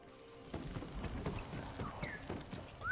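Horse hooves clip-clopping in the video game Ghost of Tsushima, a steady run of close, moderately loud hoofbeats over a low rumble, with a brief bird-like call near the end and no speech.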